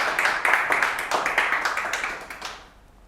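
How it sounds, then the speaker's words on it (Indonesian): Applause from an audience at a university dakwah (Islamic preaching) competition final, welcoming a finalist; a dense burst of many hands clapping close by, steady for over two seconds and then tapering off quickly. "Tepuk tangan untuk Lili."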